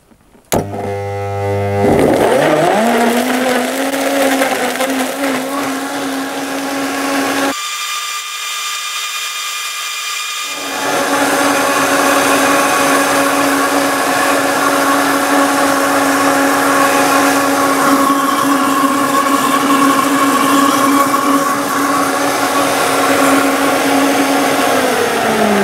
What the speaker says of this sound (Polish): I włączam blender.